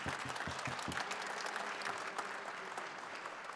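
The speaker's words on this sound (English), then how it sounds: "Let's give them and the musicians of the show band a nice round of applause" An audience claps steadily, starting with a few distinct claps and swelling into a sustained, moderately distant round of applause.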